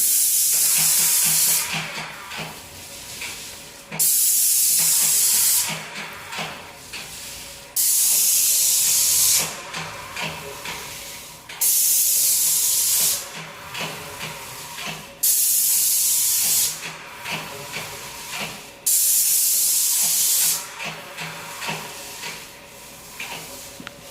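Bursts of loud, steady spray hiss from a Graco airless paint sprayer, each lasting a few seconds, repeat about six times with quieter gaps of faint rustling between them.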